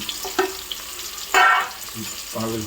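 Onion goes into hot spiced tempering oil in a pan for a crab curry. A close sizzle is broken by clattering stirring strokes, with one louder burst of frying in the middle.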